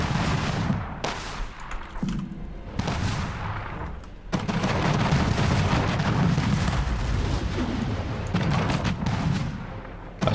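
Ship cannons fire in the video game Anno 1800, heavy booming blasts in a rapid irregular volley with rumbling bursts that overlap and swell, loud and near.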